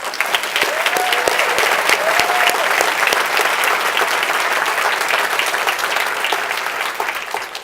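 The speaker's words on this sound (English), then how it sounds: "can we have a round of applause for Marvin, please?" A crowd at a talk applauds Marvin with loud, continuous clapping, a few brief whoops rising over it early on before it tapers slightly.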